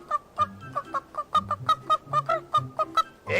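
Cartoon chickens on a poultry farm cluck in quick, repeated bursts, a busy cluster of close, loud squawking calls with a brief rising cry at the end, no speech.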